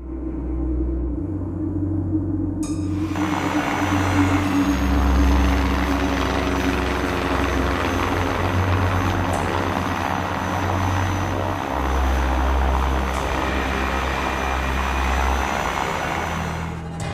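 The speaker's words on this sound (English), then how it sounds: "Biplane." A biplane's propeller engine drones steadily with a pulsing low throb and a fairly loud, continuous hum, with no voices.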